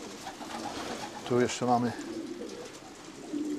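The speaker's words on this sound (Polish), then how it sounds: "Geringsy to strasznie silne gołębie" Racing pigeons coo in a loft, a brief low rolling coo standing out over a quiet background, while someone speaks nearby.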